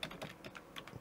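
Keys clacking on a computer keyboard during a short burst of typing, with several quick, fairly quiet strokes in a row and no talking.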